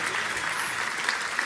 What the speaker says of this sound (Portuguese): É por isso que os aplausos começaram, vão repetir.